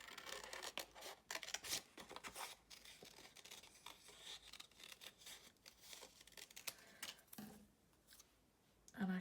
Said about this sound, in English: So let's just cut out one of these ice creams.